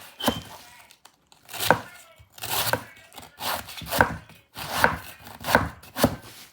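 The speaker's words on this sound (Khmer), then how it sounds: "ពេលនេះខ្ញុំហាន់ទៅអស់ថែមទៀតហើយ" A knife slices through food on a board in a string of about eight crisp, close chopping strokes, each a sharp thunk followed by a short pause, coming faster toward the end.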